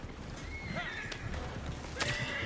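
A horse in a video game whinnies twice over the clip-clop of hooves, the calls sharp and fairly close against low background game noise.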